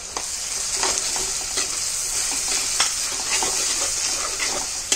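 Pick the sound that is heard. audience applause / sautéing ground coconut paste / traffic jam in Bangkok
sautéing ground coconut paste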